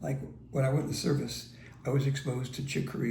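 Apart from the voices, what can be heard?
None of the usual background noises is heard.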